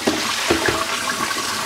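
Steady rush of running water close by as Shark Rotator Professional vacuum parts are rinsed, continuous and fairly loud, with a couple of brief splashes early on.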